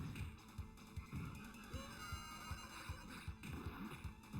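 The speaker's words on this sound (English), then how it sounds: "Ah, these damn horses." Horses in a retro TMNT video game on a train level whinny over a busy game soundtrack, with rhythmic low thumps throughout.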